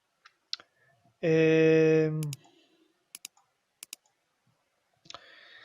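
Several sharp, dry mouse clicks come in quick pairs, along with a keyboard Shift key press, while table rows are selected in a NetBeans Java program. They follow a brief buzzy tone, and a voice starts at the end.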